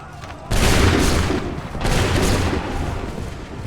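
Loud musket volley from a line of soldiers in Assassin's Creed 3, a sudden crashing burst of gunfire followed by a second ragged wave of shots, with rumbling echo lingering afterward.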